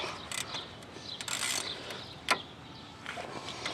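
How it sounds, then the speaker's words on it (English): Metal ratchet clicks and tool clanks while removing the 14 mm brake caliper bolts on a 2002-11 Chevy Aveo front wheel, faint and close with short irregular bursts of ratcheting and a single sharper knock. "we'll go ahead and take our bolts out of our brake caliper"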